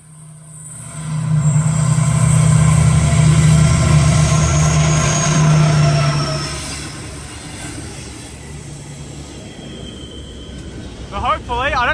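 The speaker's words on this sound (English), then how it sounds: "Here comes the freight train." A freight train rolls past a station platform, its loud rumbling and droning swelling quickly then easing, with faint wheel squeal and a brief voice near the end.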